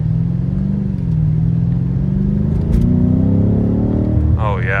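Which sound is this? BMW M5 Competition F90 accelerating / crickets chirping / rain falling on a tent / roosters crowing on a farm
BMW M5 Competition F90 accelerating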